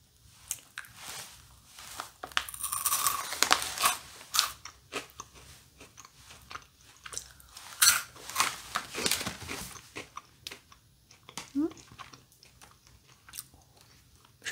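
Crunchy chewing and biting on a snack mix of peanuts, crispy balls, milk, dark and white chocolate, caramel and sea salt, with close, irregular crunches repeating over about fourteen seconds and no talk.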